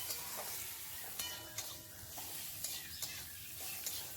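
Tomatoes frying with onion and salt in a pan for a fish curry, stirred with a spoon: steady close sizzle with repeated scraping stirs every half second or so, no talking.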